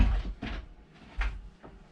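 A small three-quarter-height heads door aboard a new 37ft Ovni offshore cruising yacht swings and knocks shut, giving two or three close, short wooden thumps with quiet pauses between them.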